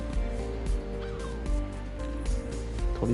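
A bird honks and calls faintly in the video game Golf Club: Wasteland, its short cries sitting over a steady wash of game ambience with soft periodic thumps.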